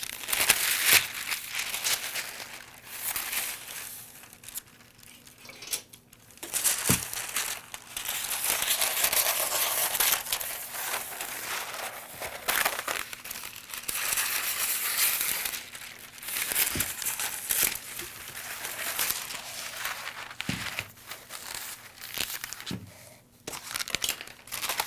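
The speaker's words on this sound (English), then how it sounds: "Take another piece of paper." A sheet of paper is handled and crinkled continuously on a worktable while drafting a sewing collar pattern, giving close, rustling and crackling texture with a few sharper clicks and taps throughout.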